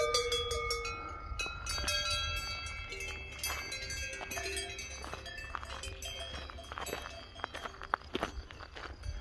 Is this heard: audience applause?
no